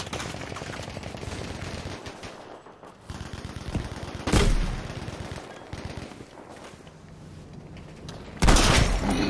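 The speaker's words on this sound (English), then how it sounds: "I'm gonna drop artillery." Artillery strike in Battlefield V Firestorm: a dense stretch of rapid gunfire with two loud, sharp explosive blasts landing several seconds apart, each booming heavily over the ongoing battle noise.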